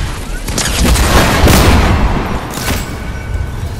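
Booming gunfire-like blasts from a shotgun in a multiplayer shooter game, loud and close, with several heavy impacts over a dense, noisy backdrop of game action.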